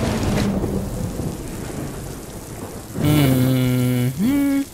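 Rain and rolling thunder from the Death Stranding video game, a steady downpour wash throughout, with a sustained tonal drone or music swelling in over the last couple of seconds.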